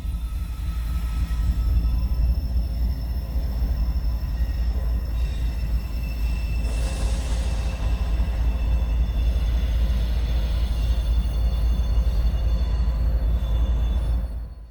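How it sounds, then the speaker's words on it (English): A CSX freight train delivering Brightline coaches rumbles steadily and loudly into a rail interchange, with heavy low-frequency rolling and faint wheel squeal throughout, fading near the end. "Here's the CSX delivery train, S982, arriving to the Brightline interchange off the Stanton branch line"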